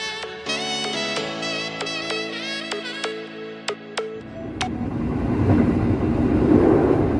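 Kaligung passenger train departing Tegal station on the Semarang Poncol–Tegal route, with sustained horn-like tonal blasts and squealing, then a rising broadband rumble of wheels and engine as it pulls away, fairly close and loud.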